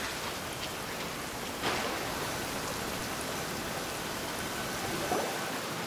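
Steady rain falling across the Sumeru rainforest in Genshin Impact, a constant hiss of drops on surfaces with a couple of slightly louder spatters, no voices.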